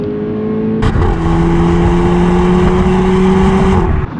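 A small GTI hatchback accelerates hard at full throttle, its engine note climbing loud and close. A sharp shift comes early, and the pull then carries on steadily until the throttle lifts near the end.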